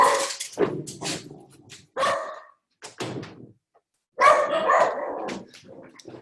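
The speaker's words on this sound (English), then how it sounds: "Sorry, I have dogs." Several dogs in a home bark loudly and repeatedly in ragged bursts, close by, with brief whimpers and a thump between volleys.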